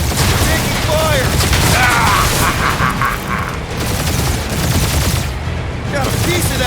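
Sustained gunfire and explosive booms in the Guardians of the Galaxy video game, dense and loud throughout and mixed with mechanical clatter and game effects.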